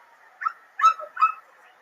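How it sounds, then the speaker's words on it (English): Dog barking sound effect playing as three short, sharp yelps in quick succession, fairly close and moderately loud, with no talking over them. "Perfect timing for the dog sound effects after the HEB announcement."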